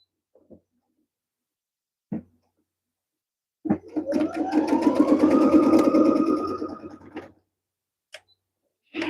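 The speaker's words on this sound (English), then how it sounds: "Stitch it together." A sewing machine stitches quilt blocks together in one close, steady whirring run of about three and a half seconds, with a few isolated clicks before and after.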